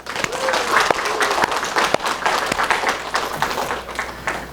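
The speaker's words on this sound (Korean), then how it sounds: "박수를 쳐줍니다." Congregation in a Korean church clapping together in sustained applause, dense overlapping handclaps with a few sharper claps standing out, some voices mixed in throughout.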